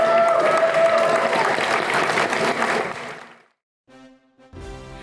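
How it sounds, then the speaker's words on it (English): Convention panel audience breaks into loud, dense applause that fades out over about three seconds, followed by a brief quiet and a short burst of other sound at the end. "let's give them one more round of applause"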